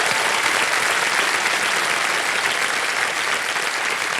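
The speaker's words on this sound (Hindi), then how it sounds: "एक बार फिर तालियां बज जाएं" A studio audience on a TV quiz show applauds a contestant, producing a dense, continuous wash of loud clapping that holds steady throughout.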